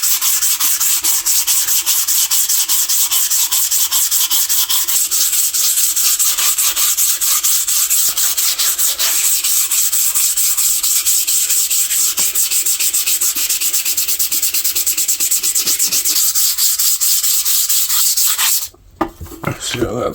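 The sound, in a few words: sanding rust off a vintage saw blade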